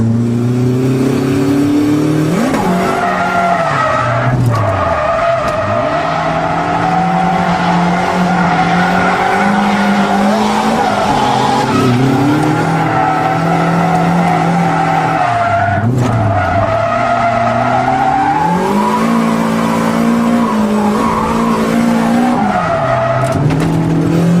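A car engine revs hard and loud, its pitch rising and falling repeatedly as tires squeal and skid through long drifting slides, with no voices.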